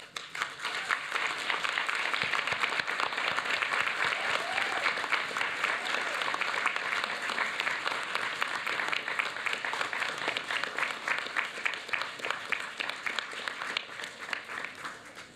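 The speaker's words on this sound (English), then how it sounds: "let them hear a rousing round of applause" Sustained, dense applause from a large graduation ceremony audience at a university business school, steady and loud for the whole stretch with occasional cheers mixed in.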